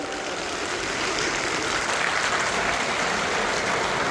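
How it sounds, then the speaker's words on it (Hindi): A large crowd applauds steadily at an outdoor political rally welcoming a chief minister, a dense continuous roar of clapping with no pauses. "अगर आपको पानी मिला है तो ताली बजा के मुख्यमंत्री का स्वागत करता हूं।"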